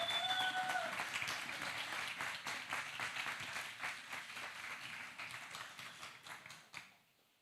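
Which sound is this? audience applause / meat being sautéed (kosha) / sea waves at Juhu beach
audience applause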